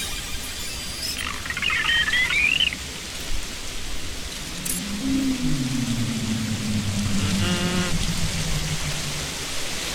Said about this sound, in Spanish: ¿Se oye agua? ¿Hay agua en las islas flotantes?